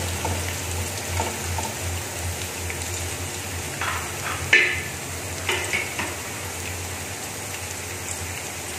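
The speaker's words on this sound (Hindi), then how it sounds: "हल्का सा फ्राई कर लेंगे इसको लहसन की बहुत ही मज़े की खुशबू आना शुरू हो गई है" Garlic frying in a pan of oil, a steady close crackling sizzle with a few scraping stirs and clinks of a utensil against the pan, no voices.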